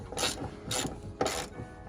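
A hand ratchet loosens Steeda strut tower brace bolts on a 2011-14 Mustang, giving three close bursts of rapid clicking with short pauses between strokes.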